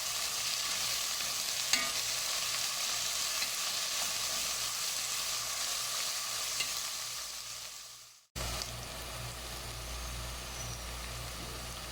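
Onions frying in a pan with ginger and garlic paste, a steady close sizzle stirred continuously, briefly cutting out before resuming.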